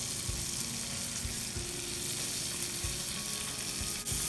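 Finely chopped onion and half-inch capsicum pieces sautéing in a pan, a steady bright sizzle with occasional soft stirring knocks.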